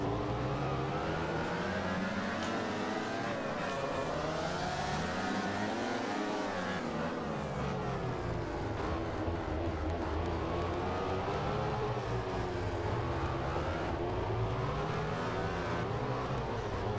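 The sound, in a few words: motorcycle engine racing in MotoGP 14 video game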